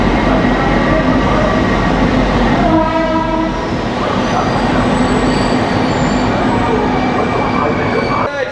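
A train departs Gudur station with a loud, continuous rumble of wheels on rails, a long horn blast partway through, and some metallic squeal, heard close from on board.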